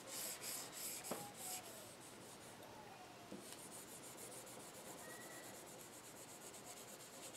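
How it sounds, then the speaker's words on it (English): Faint, steady rubbing as an image transfer is burnished onto a journal page with light pressure, a soft continuous scratchy friction with a few brief taps. "I'm going to gently place it down, and I'm going to burnish it."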